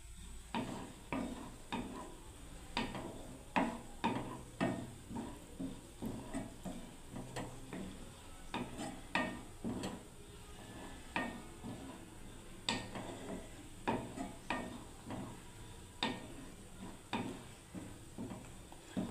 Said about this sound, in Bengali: এবার খুব সুন্দরভাবে নেড়ে নেব।